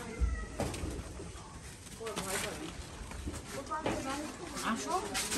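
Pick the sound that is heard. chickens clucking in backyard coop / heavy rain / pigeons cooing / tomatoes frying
pigeons cooing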